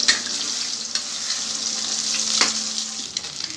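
Four eggs frying in a pan for chicken fried rice, with a loud steady sizzle and a few crisp spatula taps and scrapes, heard close with no voices.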